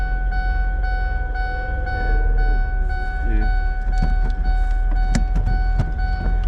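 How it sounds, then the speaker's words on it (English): A car's electric power window rolls down with a steady motor whine, heard near and clearly while people speak nearby inside the vehicle. "Should I roll down the window"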